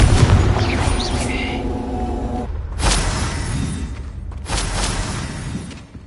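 Explosive Confringo spell blasts in Hogwarts Legacy, booming bursts that land in a few heavy waves over dense game sound, loud and near, with shimmering magical tones early on.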